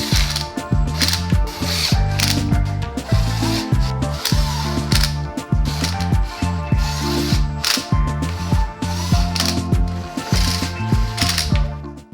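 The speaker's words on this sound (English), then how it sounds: "You're gonna load up with all of your 10mm screws, and then you can go ahead and torque them down." A ratchet clicks steadily as it runs down 10mm valve cover screws on a BMW M54 engine, loud and close, in repeated rhythmic bursts with short pauses between screws and no talking.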